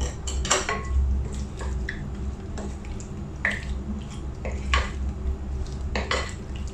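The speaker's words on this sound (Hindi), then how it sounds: "ऐसे हम हल्का सा एक स्टर दे देंगे इस तरीके से, और पाइनएप्पल को मिक्स कर लेंगे इसमें" Pineapple salad being stirred in a bowl, with soft wet squishing and clinks of a utensil against the dish repeating over a low steady background hum, close up and without talk.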